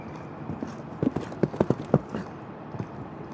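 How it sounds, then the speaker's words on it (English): Hooves of a show-jumping horse clip-clop on an arena surface at a five-star 1.50 m competition, a quick cluster of crisp hoof strikes at moderate distance followed by a few scattered later steps, with faint crowd ambience. "So jumps that fence that was a little bit the bogey for Gaudiano's number 1 horse"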